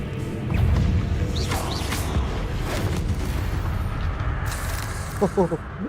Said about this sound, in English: That was a good explosion right there.